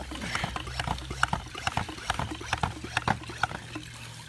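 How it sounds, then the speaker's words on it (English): A hand-pump bug sprayer gives a string of rhythmic squeaks and puffs as it is pumped, with faint hissing between strokes and a low hum underneath. "Okay, so this is my sprayer. You pump it down."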